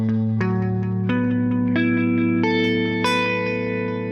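Electric guitar chords strummed through effects, with reverb, chorus and echo on a barred shape up the neck: six successive strums, each ringing out with sustained harmonics, close and loud with no talking.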